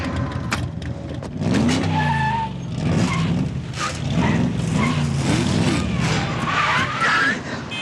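A high-performance race car squeals its tires and revs on a test drive, engine pitch rising and falling through turns with sharp skidding bursts, while people talk over it.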